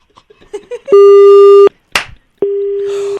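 Telephone tone after a prank call is cut off, two long steady beeps separated by a short pause, loud and close, following a few faint clicks and handling noises.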